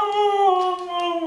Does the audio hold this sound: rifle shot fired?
no